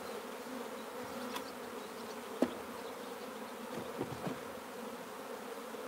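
Honeybees buzz in a low, steady hum around the hive as they choose which box to return to, with a sharp click partway through and a few faint knocks.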